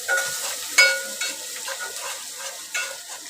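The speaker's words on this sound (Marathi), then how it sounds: "चांगली हळद ती परतून घ्यायची" Turmeric sautéing in oil in a pan, a light, thin sizzle with a few distinct scraping strokes and taps of a spatula, close and fairly quiet with no voices.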